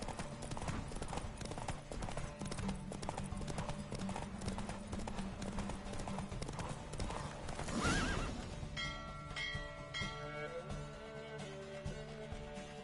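A horse gallops in a race in The Witcher 3: Wild Hunt, with rapid hoofbeats drumming continuously and a loud whinny near the end, over game background sound.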